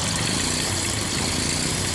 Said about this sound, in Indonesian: cara menganalisa suara kasar pada motor Honda Beat